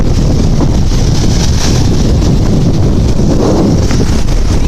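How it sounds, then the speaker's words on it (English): Strong wind roars loudly and continuously across the microphone at a lake, a dense, unbroken rumble with no voices. "holy crap, it's windy"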